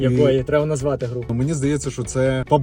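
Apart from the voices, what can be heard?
None of the usual background noises is heard.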